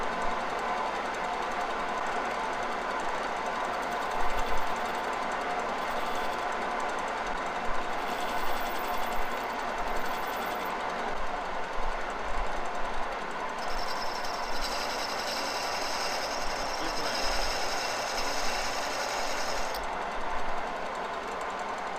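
A metal lathe with a freshly sharpened cutting tool runs at a reduced 630 rpm, giving off a steady mechanical whir and hum with a brighter whine joining in partway through.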